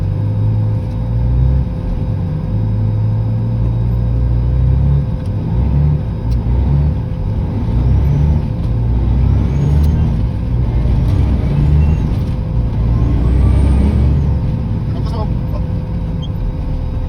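A Peterbilt 379 truck with a CAT 3406B engine and a newly fitted turbo, heading out to haul steel sheets, gives a loud, steady diesel drone and low rumble from inside the cab throughout.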